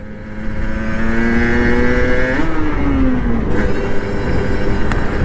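A motorcycle engine runs loud and close, holding a steady harmonic drone, then rises into a rev, drops and settles back to a lower steady run.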